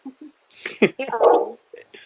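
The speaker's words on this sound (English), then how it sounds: "There's my dog." A pet dog gives a few short barks and whimpers close by, mixed in with a voice talking indoors.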